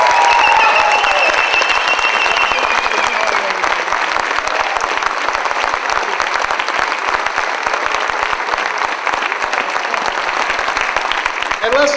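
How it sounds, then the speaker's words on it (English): Loud, dense audience applause fills a conference hall at a professional speaking event, a steady wash of many hands clapping throughout, with a few faint voices mixed in. "let's give him a warm South African hand."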